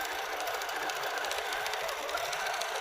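A QCT6 Plus quilting machine stitching along marked points on a quilt block, giving a steady, even mechanical whir with fine rapid needle ticks throughout, close and continuous.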